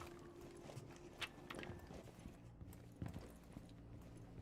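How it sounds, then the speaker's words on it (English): Footsteps clopping at irregular intervals with light metallic jangling in a 4v4 competitive video game match, moderately quiet and continuous over a low game background. "All these loud footsteps and things jangling around."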